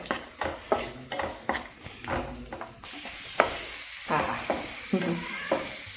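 Cashews and raisins fry in hot oil, a close, bright sizzle under a run of sharp metallic scrapes and clinks as a spoon stirs the pan, continuing steadily with no talk.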